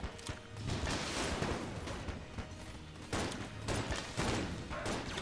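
Enemy gunfire in the video game Enter the Gungeon comes in rapid bursts of shots and impacts. The firing swells and fades in waves and stays fairly quiet overall.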